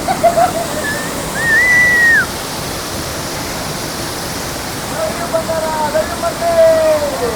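Hogenakkal Falls pours down in a steady, broad roar of water nearby, with a voice talking over the rush in places.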